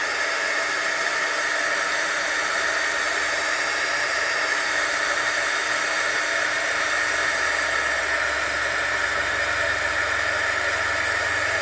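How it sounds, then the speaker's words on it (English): A heat tool blows a steady, loud hiss of hot air while melting embossing powder on a card, continuous and unbroken from start to finish. "So the heat tool is melting the embossing powder and going to make it nice and glossy."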